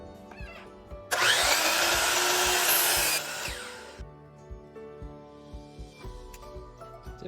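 A power saw cuts through a walnut board for a large cutting board, trimming off a line of planer snipe; a loud, steady whine lasts about two seconds, then tapers away into quieter workshop knocks.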